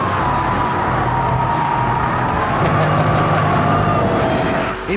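A Ford Shelby GT500 V8 engine roars steadily and loudly while the car slides in oversteer through corners on a track, with a faint tire squeal under the sustained engine drone.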